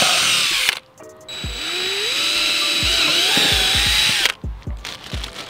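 A power drill whirring steadily close by as it bores into a car's front splitter on a Mk4, followed by a run of short clicks and knocks once it stops.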